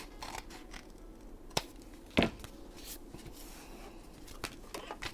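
Scissors trim a paper craft tag shaped like a little house, with a few soft, crisp snips and sharp clicks over quiet background rustling, close and faint.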